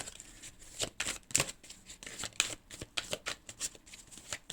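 Oracle cards are shuffled for a reading in a rapid run of soft papery riffles and flicks, close and quiet, with no voice over them.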